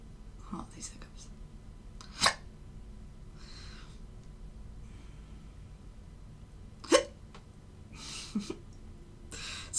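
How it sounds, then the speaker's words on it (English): A man's hiccups, sharp and abrupt, sound close by in a quiet room, with three or four spaced apart among soft breathing and a few whispered words. "Oh, these hiccups."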